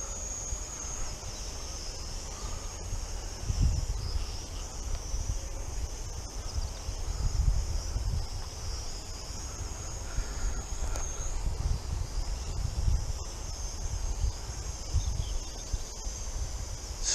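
Wind gusts buffet the microphone outdoors during a drone flight near a pylon, low rumbling bursts rising and falling over a steady high whine from the drone's motors.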